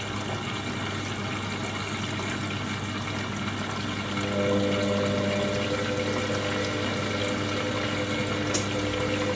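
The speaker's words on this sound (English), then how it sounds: "Usually these fill in two" An Indesit IWDC6125 washer dryer fills with water for a rinse on a Cottons 70ºC programme, a steady rushing inflow with a pump hum that grows louder and fuller midway.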